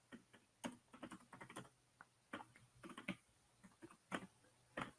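Quiet typing on a computer keyboard, irregular runs of soft key clicks and taps at close range, faint with brief pauses between bursts.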